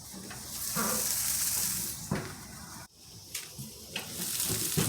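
Corn cobs sizzle on a barbecue grill next to pork ribs, a steady, soft hissing fry with a few small crackles and a brief dip midway.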